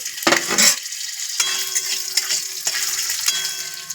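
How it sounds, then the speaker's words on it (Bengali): Potatoes drop into hot oil with five-spice, bay leaf and dried chili, a loud burst of sizzling, followed by steady frying crackle and occasional clinks of a utensil against the pan. "এই যে দিয়ে দিলাম আলু"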